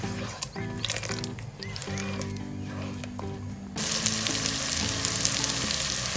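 Eggplant stew with fresh tomatoes just added sizzles steadily in the pan while being stirred, with scraping and clinking of the spoon throughout; the frying hiss grows louder and brighter partway through.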